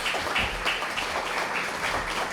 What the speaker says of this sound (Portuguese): secretário de Segurança Pública, Damasceno, peço uma salva de palmas.